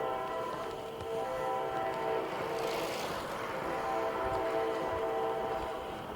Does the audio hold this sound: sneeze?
no